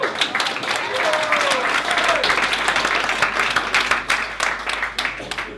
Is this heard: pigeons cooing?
no